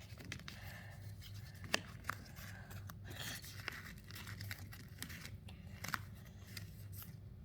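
Close, quiet crinkles and creases of paper as paper airplane wings are folded, with scattered soft taps and rustles over a low steady background.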